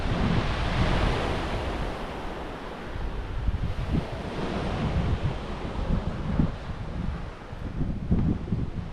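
Sea waves wash onto a beach beside a coastal road on the western side, a continuous roar of surf with gusting wind buffeting the microphone, loud and unbroken for the whole stretch.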